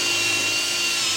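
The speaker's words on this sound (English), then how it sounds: "I'm just going to drill a couple of holes now" A power drill whines steadily at close range while drilling holes in an irrigation valve box, a loud continuous high-pitched buzz with no pauses and no talking.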